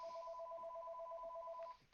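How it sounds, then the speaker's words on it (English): A landline home telephone rings indoors, one steady electronic trill lasting nearly two seconds before cutting off, fairly quiet against a faint room background. "Ah, for Pete's sake. That's my phone."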